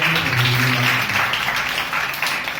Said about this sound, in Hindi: सभी को ताली बजा के प्रभु का धन्यवाद।